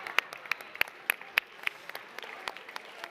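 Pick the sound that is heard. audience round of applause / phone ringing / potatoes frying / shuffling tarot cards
audience round of applause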